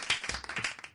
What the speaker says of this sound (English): Do I get applause for that?